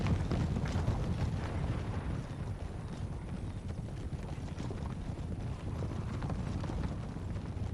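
Massed heavy cavalry hooves in Empire: Total War, a dense, steady rumbling clatter of many horses galloping together, continuous and fairly loud throughout without speech.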